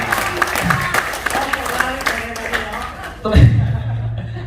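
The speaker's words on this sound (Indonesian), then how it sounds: "Tepuk tangan buat Bu Suryanti ya." An audience at an Indonesian talk on debt-free finance breaks into clapping mixed with chuckles and scattered voices, a lively moderate burst that swells near the end.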